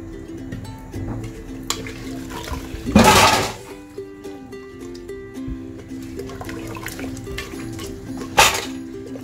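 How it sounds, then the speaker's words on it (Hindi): Water pours in a brief, splashy rush into a cooking pot holding goat head curry with ginger-garlic paste, lasting about a second. Faint clinks of utensils and kitchen background noise come before and after. "इसके अंदर मैं 3 ग्लास पानी ऐड कर रही हूँ।"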